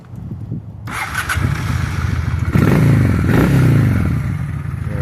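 A 2000 Honda Shadow 600 motorcycle engine cranks with a clatter, catches and settles into a loud, steady, rumbling idle, close to the listener.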